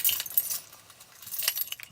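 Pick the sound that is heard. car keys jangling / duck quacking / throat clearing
car keys jangling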